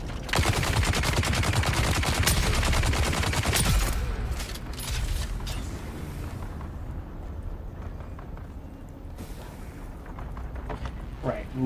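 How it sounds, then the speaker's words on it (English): Rapid, dense gunfire in the video game Dune: Awakening bursts loudly for several seconds, then continues as a steadier rattle of shots with voices talking over it. "I don't think we should be hearing that gunfire."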